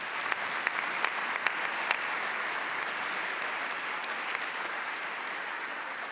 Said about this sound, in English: let's give them a special clap